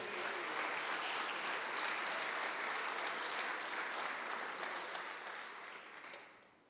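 A church congregation claps steadily during a worship service, a broad even wash of applause that holds for several seconds, then thins and fades toward the end.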